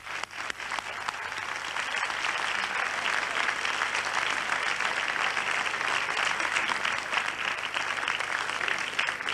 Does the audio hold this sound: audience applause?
yes